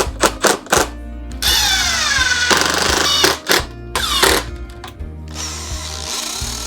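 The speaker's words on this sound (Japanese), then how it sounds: "フレンチクリートの一方を縦の柱にネジ止めしていきます。" Power driver screwing a wooden French cleat onto a vertical wooden post, several short bursts then longer whirring runs that speed up and stop, close and loud with brief pauses between.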